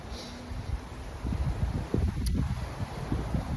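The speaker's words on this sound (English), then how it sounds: "The sky is pure gray right now, as you can see, and it is windy as fuck." Steady gusting wind buffets the microphone with low rumbling noise and faint rustling, continuous throughout with no voices.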